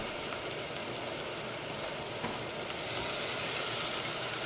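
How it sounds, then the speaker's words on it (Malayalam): Steady sizzling hiss as tomato goes into Kerala-style vegetable rava upma frying in a pan, a constant close frying crackle that swells slightly near the end, with no talk. "ഇതിലേക്ക് തക്കാളി ചേർക്കാം"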